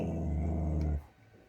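Dog growling at a roast chicken cooking indoors, a continuous low rumbling growl close up for about a second before cutting off into quiet.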